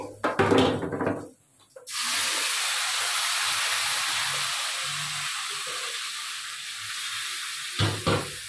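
Nigella seeds dropped into hot oil set off a sudden loud, steady sizzle that hisses on for several seconds, close by, after a brief clatter of handling at the start.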